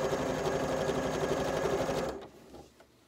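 Sewing machine stitching quilt squares together with a quarter-inch foot, a loud steady motor whir with rapid needle chatter running for about two seconds before stopping, followed by faint handling noise.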